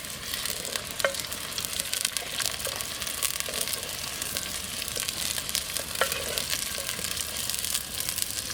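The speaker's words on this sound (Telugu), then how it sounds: "ముందుగా నూనె పోసుకొని ఉల్లిపాయలు పచ్చిమిరపకాయలు వేసుకొని కొంచెం గోల్డ్ కలర్ వచ్చే వరకు వేగిన తర్వాత చికెన్ అవుతే వేసుకున్నాం." Godavari-style country chicken fries with onions and green chillies in a clay pot over a wood-fired stove, giving a steady, close sizzle with occasional clicks and scrapes from stirring and no voices.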